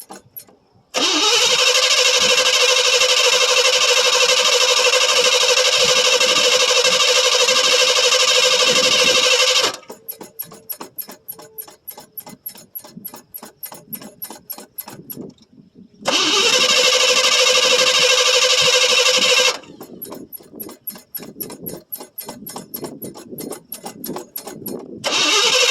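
A 1977 Buick LeSabre, a 350 Olds engine, cranks on a cold start in two long stretches of loud starter grinding, each followed by rapid sputtering, uneven firing that never settles into a smooth idle.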